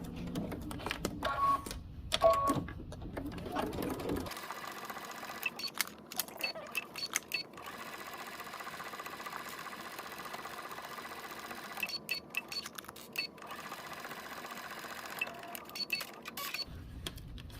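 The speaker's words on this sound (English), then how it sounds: "we're going to take it to the machine and we're going to stitch it around the edges" A sewing machine runs in long, steady stitching stretches around the fabric edges of a cargo pants pocket, pausing briefly between runs, at a moderate close level.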